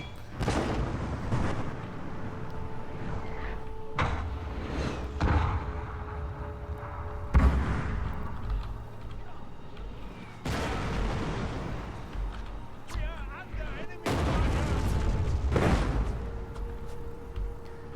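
Heavy cannon shots in the video game Total War: Shogun 2 – Fall of the Samurai, including an Armstrong gun, boom repeatedly at uneven intervals, each blast sharp and loud with a rumbling tail, amid battle noise.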